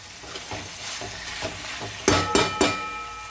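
A spoon stirs chicken curry frying in masala and oil in a pan. Soft scraping strokes sound over a light sizzle, then three louder, close scrapes come in quick succession at the end.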